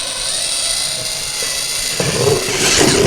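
A power drill bores slowly through ceiling sheetrock while a recessed light is installed into an existing ceiling, giving a steady, loud whine that thickens and grows rougher near the end as the bit pushes through.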